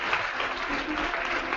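An audience at a poetry slam bout gives steady, dense applause from many hands, loud and continuous across the moment with no voices rising above it.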